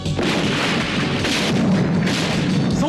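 A loud, rumbling cinematic explosion with a heavy booming blast and sustained roar, dense and close, filling the whole moment.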